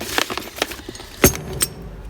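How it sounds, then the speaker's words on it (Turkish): Metal wrenches from a wrench set clink and rattle against each other in a few short, bright bursts, with one sharper clank near the middle, handled close by. "bir anahtar seti 32'ye kadar gidiyor"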